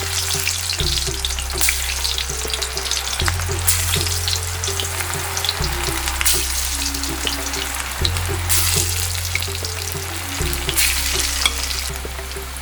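Spinach and potato kofta balls sizzling steadily in hot oil in a pan over low heat, a continuous close crackle with occasional sharper pops and no talking.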